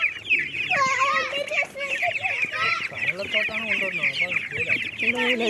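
Newly bought baby chicks cheep and cluck continuously in high, repeated chirps close by, while children chatter and play around them.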